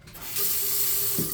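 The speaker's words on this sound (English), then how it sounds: "water's running" Water runs from a tap in a house's half bathroom, a brief steady hiss that starts abruptly and carries on evenly, close by and alone.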